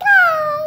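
A voices a single drawn-out, falling caw-like call in imitation of a crow, clear and close for under a second.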